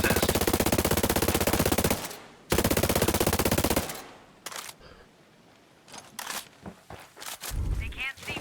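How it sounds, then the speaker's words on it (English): Rapid automatic gunfire in the shooter video game Ghost Recon Frontline, two long loud bursts followed by scattered single shots and quieter movement sounds. "Hostiles are shooting."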